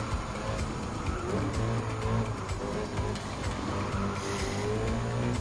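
Supercars roaring around a track in Gran Turismo 7, a Citroen and a Lamborghini battling for first place, with loud sustained engine drone and occasional tire noise, no voices.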